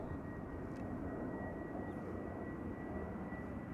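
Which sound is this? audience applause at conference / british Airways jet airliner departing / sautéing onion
british Airways jet airliner departing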